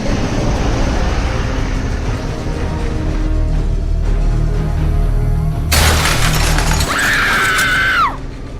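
A loud, sudden crash of metal and shattering glass from a bus going over into a gorge, rising out of a steady engine rumble, with a sharp screeching tail at the end.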